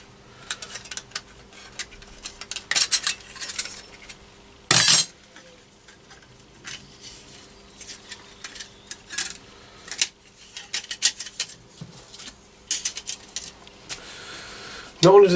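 A folding Chinese-made pocket stove of thin metal is folded shut and handled, giving a string of light metallic clinks and rattles with scattered sharper clacks, close and fairly faint, with no talk.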